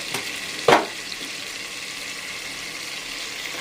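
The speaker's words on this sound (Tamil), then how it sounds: "இதுவும் நல்லா பொரியட்டும்" Prawns fry in oil for prawn pickle, making a soft, steady sizzle with one brief clatter of a utensil early on.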